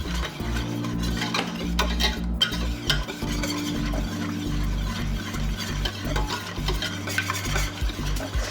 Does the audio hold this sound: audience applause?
no